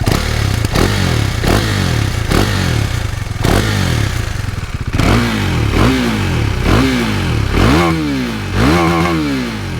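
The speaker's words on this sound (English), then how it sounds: "the stock exhaust is fairly quiet, but it has kind of nice sound to it" A 2021 KTM 390 Duke on its stock exhaust is revved up close in a series of quick throttle blips. Each one rises and falls sharply, and they come faster and fuller toward the end, with some mechanical clatter underneath.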